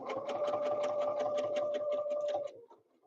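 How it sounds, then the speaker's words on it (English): A sewing machine stitches steadily while quilting, its rapid needle rhythm and motor whine running for about two and a half seconds before stopping abruptly. "this says I'm quilting. I'm just going until the foot touches the stitching."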